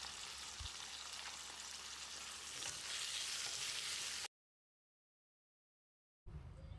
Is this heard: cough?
no